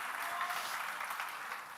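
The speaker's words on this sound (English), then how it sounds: "Give yourselves a round of applause." An audience at a talk on complaining applauds, a steady, soft, even wash of clapping heard from some distance and lasting throughout.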